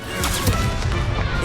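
A Stupefy spell cast in combat in Hogwarts Legacy, heard as a dense, loud crashing impact amid continuous battle effects, with no talking.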